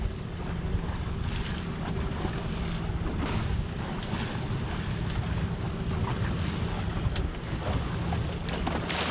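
A fishing boat trolls live ballyhoo slowly at about four miles an hour, its engine droning under constant wind buffeting and the wash of open-ocean water.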